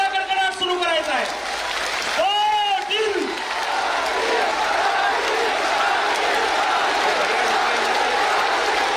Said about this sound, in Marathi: हा तुमचा टाळ्यांचा कडकडाट सुरू करायचा आहे.